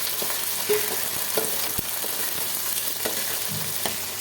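Ginger, garlic and kanthari chili fry in hot oil for a lemon pickle, giving a steady close sizzle broken by occasional sharp clicks and scrapes of stirring, with no talking.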